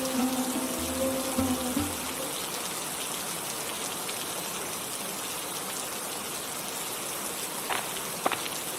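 Steady, dense rain falls throughout in an animated village scene, a constant hiss and patter with a few brief tonal sounds at the start and occasional louder drips, close and with no talking.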